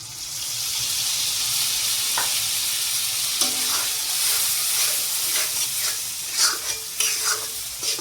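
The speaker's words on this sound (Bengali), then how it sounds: "মশলাটা অল্প কষিয়ে নেব।" Ground spice paste stir-fried with potatoes in a pan: a constant sizzling hiss, broken by repeated scraping and knocking strokes of a spatula that grow busier toward the end.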